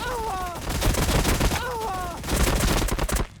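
Rapid bursts of gunfire from a unit in the Warhammer Battlesector strategy game, two loud volleys of repeated shots with whining tonal effects, the shooting dense and close, ending abruptly.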